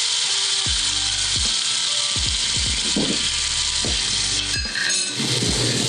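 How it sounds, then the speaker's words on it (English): Hot broth goes into risotto rice in a pan while a spoon stirs, giving a steady loud sizzle and hiss, with repeated scraping strokes against the pan in an uneven rhythm. "broth to the rice a little bit at a time while stirring it constantly"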